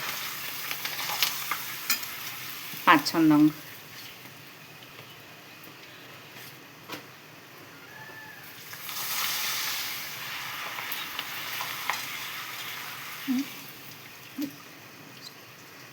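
Lijjat papad frying in hot oil while making a chevdo of puffed rice and nylon poha, a steady, even sizzle with a brief clatter near the start and a few words spoken.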